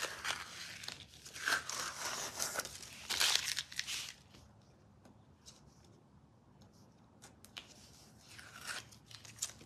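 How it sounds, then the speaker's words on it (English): Tape peels and rips away from the edges of a faux shagreen finished surface, giving close crinkling, tearing bursts in the first few seconds, then quieter pauses and a final crackle of crumpling tape. "brush it off, clean your edges, and remove your tape"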